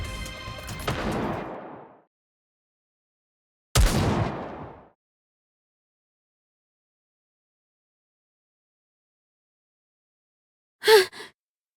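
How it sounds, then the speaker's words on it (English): Gunfire in the video game Goddess of Victory: Nikke: a sustained burst of shots at the start, a second sharp burst about four seconds in, then a brief crack near the end, separated by silence, with no talking. "Those gunshots."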